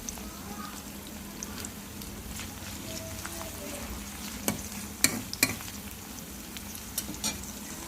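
Beef frying in a pan for a Bengali beef curry, a soft, even sizzle broken by a few sharp scraping clatters of stirring.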